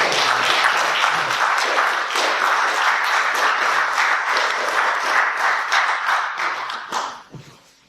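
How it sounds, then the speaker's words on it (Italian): A seated audience at an Italian talk event breaks into sustained applause, dense overlapping claps filling the room for about seven seconds before thinning and fading out at the end. "Io direi di fare un applauso."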